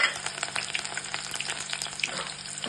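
Onions hit hot oil with bay leaf and cumin, giving a steady close sizzle with crackling pops and light stirring clinks, loud and continuous with no talking.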